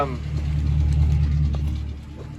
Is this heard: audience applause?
no